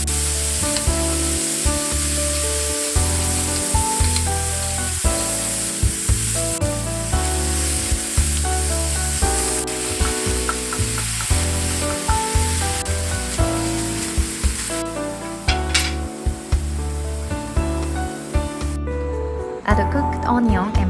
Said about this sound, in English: Heat 1 tablespoon of oil over medium heat and cook minced beef.